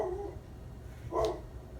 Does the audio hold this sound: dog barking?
yes